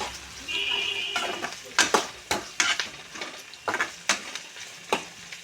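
Onions sauté in a pan with a steady sizzle, while repeated sharp scraping and clinking strokes from a stirring utensil against the metal come in a loose rhythm.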